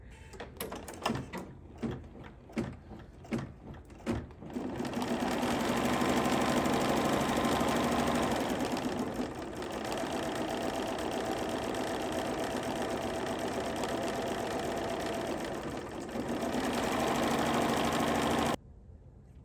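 Embroidery machine sewing a light blue placement stitch on a snow-themed hot pad with backing taped in place: a few sharp clicks, then a steady close whirring hum of rapid stitching that runs for over ten seconds before stopping.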